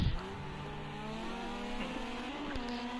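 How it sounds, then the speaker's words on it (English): Rally car engine in the Rally Fighters racing game revs hard while pulling out of a corner, a steady, rising motor drone with bright harmonics that holds throughout, alone. "I heard some engine revs just mauling a little bit, pulling out of that corner"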